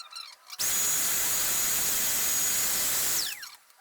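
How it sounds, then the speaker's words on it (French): A power drill bores a hole for a sensor in the bed of a pickup truck, one loud continuous high whine lasting about two and a half seconds, then winding down as it stops. "l'autre perce le dernier emplacement du capteur"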